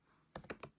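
Three or four quick, soft key clicks on a Chromebook keyboard, close and faint, in a short burst.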